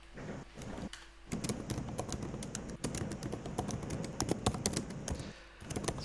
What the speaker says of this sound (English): It's Purple's keyboard being a bit loud.